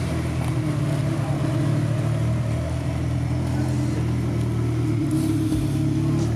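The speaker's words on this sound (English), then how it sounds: "more Ferraris started arriving." Ferrari cars arrive at a Ferrari owners club meet, their engines giving a continuous low rumble with mild revving, moderately loud and steady throughout.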